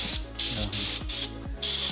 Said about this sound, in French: L'aérographe c'est ça, c'est un pistolet à peinture miniature qui permet de faire des traits hyper fins.